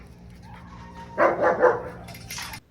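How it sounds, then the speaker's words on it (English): A dog lets out a short burst of three or four quick barks, preceded by a faint whine and followed by a higher yelp. "I also worked on his excessive barking and reactiveness towards other dogs."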